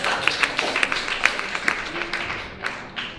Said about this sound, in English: round of applause for everyone who showed up